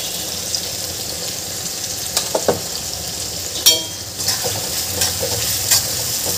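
Soaked moong dal hitting softened tomatoes in a pan brings a steady low sizzle with a few scattered stirring clicks and scrapes, moderately close and without any talking.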